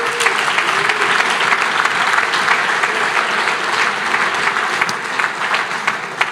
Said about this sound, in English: Another round of applause for everybody.